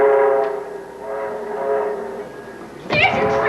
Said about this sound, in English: There's your train.